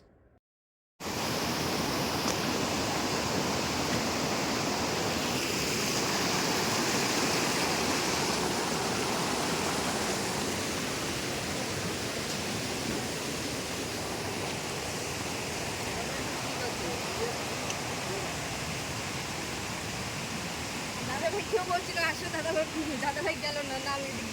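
Dudhsagar waterfall in Goa roaring as a dense, continuous rush of falling water, loud and unbroken throughout, with faint rustling and handling noises near the end.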